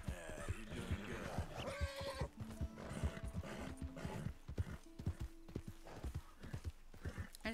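Horse hooves clip-clop at a rapid gallop in a video game, with occasional neighs and whinnies over a busy game soundscape, the hoofbeats fairly close and steady throughout.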